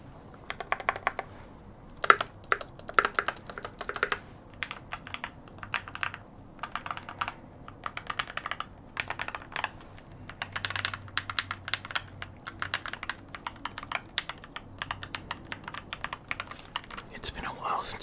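Steady typing on a computer keyboard with clicky keys, close and fairly quiet, in continuous bursts with short pauses, heard alone without talk.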